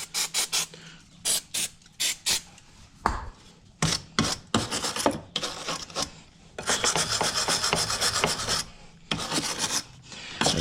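A steel wire brush scrubs rust off a part from a BMW E30, giving rapid, harsh, rhythmic strokes close up, broken by short pauses.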